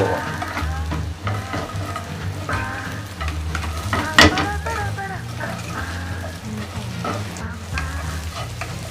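Salted gourami fish fries in hot oil, a loud, busy sizzle with stirring and scraping in the pan. It carries on throughout with a sharper crackle burst near the middle.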